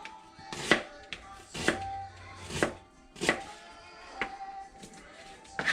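A knife slices through a red onion on a cutting board in a camp cooking setting, about eight crisp, evenly spaced cuts, close and fairly quiet.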